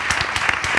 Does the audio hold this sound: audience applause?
yes